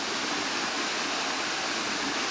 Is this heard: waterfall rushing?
yes